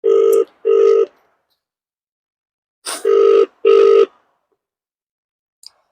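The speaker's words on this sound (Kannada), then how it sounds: "ಕೇಳ್ತೇನೆ ನಮ್ಮ ಮನೆಗೆ ಫೋನ್ ಮಾಡಿ ಎಲ್ಲಿ ಅದಾರ." Four steady telephone call tones, in two pairs of near-identical beeps separated by a pause, sound loud and clear with nothing else around them.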